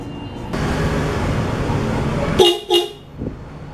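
A car horn honks twice in quick succession, loud and close, after a stretch of steady background noise.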